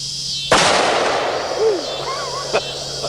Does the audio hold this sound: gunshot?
yes